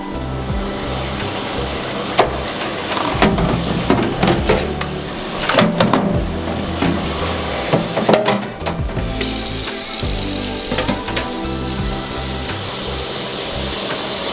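Tap water runs into a kitchen sink over ground beef in a colander, a continuous splashing stream punctuated by clanks and knocks of the colander and pan.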